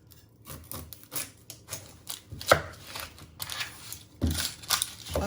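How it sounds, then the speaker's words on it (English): A sharp knife cuts the ends off a vegetable for tomato and red pepper soup, a run of close, uneven chopping thuds and crisp slicing crunches on a cutting board with brief pauses, no speech. "You're going to first top off your ends. I'm using my sharp knife."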